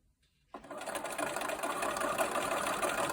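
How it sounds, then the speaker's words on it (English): After a brief silence, a sewing machine starts up and stitches continuously, a fast, steady mechanical whirring and clatter close by. "let me go to the sewing machine and show you what I do"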